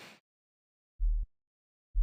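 A plain sine-wave synth sub bass, straight out of the box with no distortion, sounds two short, deep, clean notes about a second apart, alone after a brief clipped noise at the start.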